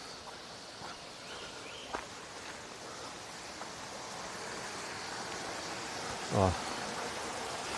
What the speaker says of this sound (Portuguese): Aqui tem um riachozinho.